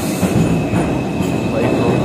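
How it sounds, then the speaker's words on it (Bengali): A New York subway train pulls into the station, its steady loud rumble and rail noise filling the whole stretch without pause. "এই দেখেন বন্ধুরা, নিউ ইয়র্কের পাতাল রেল এসে গেছে।"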